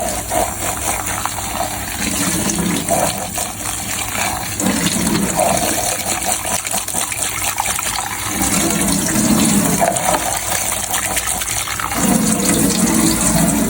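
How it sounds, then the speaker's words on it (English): A water tap runs steadily while plant explants are washed during a sterilization procedure, giving a continuous loud gushing stream that fills the whole stretch with no talk. "So after 15 minutes we close the water and then let the excess drain and wash the explant"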